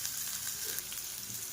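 Chopped onion and green chili sizzling in fish oil in a pan, a steady, fairly quiet frying hiss running throughout with no talk.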